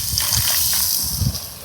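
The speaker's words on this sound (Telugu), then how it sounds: "కొంచెం నీళ్ళు పోస్తుందా." Water is poured into a pot of mutton curry cooking with tomatoes, a brief close gushing and sloshing over a background hiss of cooking.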